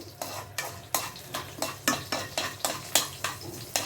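Masala sizzling in coconut oil for a Kerala-style fish curry while a spoon stirs it in a pan, giving about ten steady scraping strokes in an even rhythm over a constant low frying hiss.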